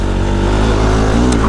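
A motorcycle engine runs loud and close while riding a rough off-road village track, a steady droning rumble with wind buffeting over it.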